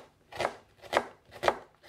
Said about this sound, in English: Then we mince the onion and the beef.